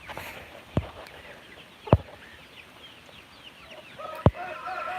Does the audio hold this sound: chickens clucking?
yes